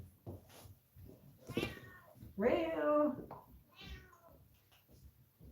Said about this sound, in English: time to feed the cats.